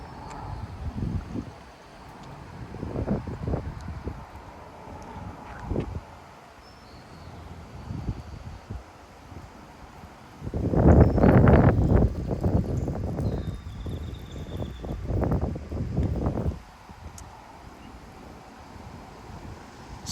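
Gusty outdoor wind around 30 mph in Frisco, Texas, roaring in uneven surges against the microphone, with one long, loud gust midway and quieter rushes before and after, no talking.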